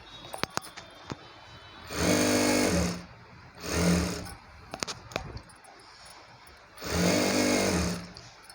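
Sewing machine stitching frock fabric in three separate bursts of roughly a second each, with small clicks and handling noises in the pauses between runs.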